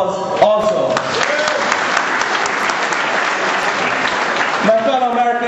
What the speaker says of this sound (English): I ask you to give yourselves a round of applause also